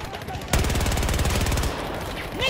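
Automatic gunfire in the shooter game Battlefield 2042 erupts in a loud, rapid, continuous burst that lasts about a second and then trails into a noisy tail.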